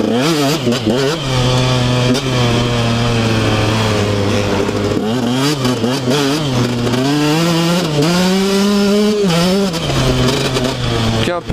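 A 125 SX dirt bike engine on an enduro ride, loud and continuous throughout, with the revs rising and falling as the rider works the throttle close up.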